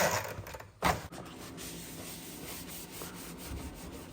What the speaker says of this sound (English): I'm cleaning the food surfaces last